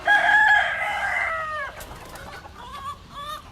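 An Old English Bantam rooster crows loudly and close, a drawn-out call that trails off into softer clucks and murmurs in a farm coop.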